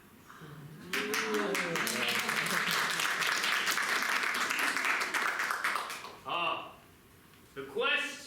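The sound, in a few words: audience applause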